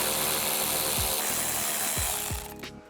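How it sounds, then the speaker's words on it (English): Bolts being removed from the fender well of a Ford F-150, a steady loud power-tool whir broken by several sharp ratcheting bursts, then winding down near the end. "Go ahead and remove the two bolts here and here."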